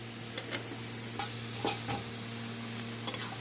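Boiled and fried jackfruit with turmeric and salt gets stirred in a pan, giving a faint sizzle beneath a steady hum with a few sharp scrapes and clicks of the spatula, and no voices.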